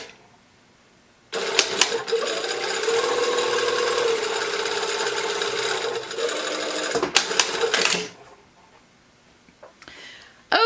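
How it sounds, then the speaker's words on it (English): A sewing machine runs a line of top stitching on a skirt, whirring steadily and loudly for about six seconds before slowing to a stop, followed by a few brief handling clicks. "doing the line of top stitching, which is super hard to see on this fabric. But you know, sewing that down"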